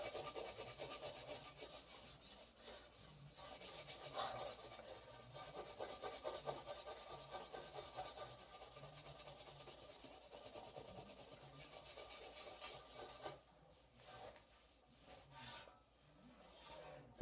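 Steel wool scrubs rust on the chrome front fender of a 1981 Yamaha XS850 Special, a quiet, close, continuous rasping rub in quick back-and-forth strokes that thins out near the end.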